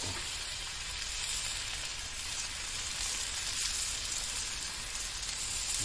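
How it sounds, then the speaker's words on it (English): Slices of bacon sizzle on a hot, dry griddle, giving a continuous, even crackle that stays steady and moderately close with no talking. "it's hot because it started sizzling right away"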